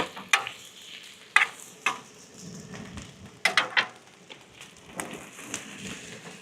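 Butter and minced garlic sizzle on a Weber Slate 36-inch griddle outdoors, a steady close hiss broken by several sharp metal spatula scrapes and clacks, with no voices.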